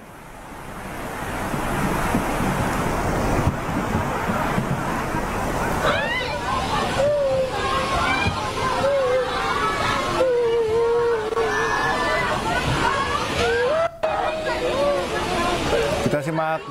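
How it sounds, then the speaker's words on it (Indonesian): An overflowing river in Desa Sirnagali, Taman Sari, Bogor spills onto a street after heavy rain because of a clogged drain, producing a steady, loud rush of water. Heavy wind noise and faint crowd chatter sit over it throughout. "air sungai meluap ke jalan akibat saluran yang mampet"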